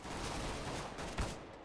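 Gunfire in Counter-Strike: GO, a sustained rattle of rapid shots under a broad noisy wash with one sharper report near the end, moderately loud, with no talk.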